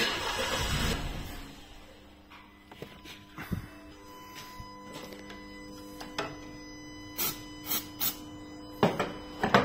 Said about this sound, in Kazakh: қазір восстановить еттік, машина оталады. Бірақ что-то қиналады бұл машина